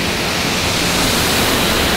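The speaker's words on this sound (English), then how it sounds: "I can't believe we get to be here and experience this waterfall." A waterfall in Basilan, Philippines roars as a dense, steady rush of falling water, loud and close, with no other sounds breaking through.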